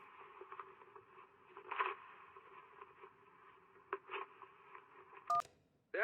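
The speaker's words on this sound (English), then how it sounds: "That was someone tearing up an electric bill." A torn electric bill, heard as a lo-fi telephone-line effect in the game Kentucky Route Zero: quiet filtered rustling and ripping with a few louder bursts, then a sharp keypad beep and a short voice at the end.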